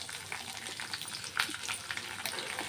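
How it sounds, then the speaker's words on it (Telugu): Onions and green chillies sizzling in hot tempering oil in a pan, a steady crackling fry with occasional stirring clinks, close and fairly loud, no talking. "పోపు వేగిపోయిందని ఇప్పుడు ఉల్లిపాయలు, పచ్చిమిర్చి వేసుకున్నాం"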